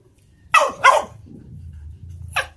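A puppy gives two sharp barks in quick succession, then a single bark about a second and a half later. The barks are close and loud over a quiet background.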